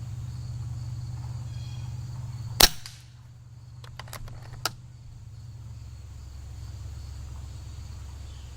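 A single sharp crack from a Walther Reign air rifle, followed by fainter distant impact ticks, over a steady outdoor bed of insect chirping with no talk.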